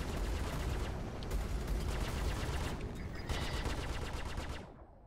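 Sustained rapid gunfire pounds a ship in the Star Citizen space game, a dense loud barrage of overlapping shots that continues without pause before cutting off at the end.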